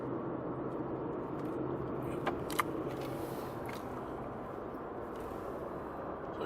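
A car drives along a road through California vineyard country, its steady low road and engine rumble continuous and fairly close, with a few faint clicks partway through and no talking.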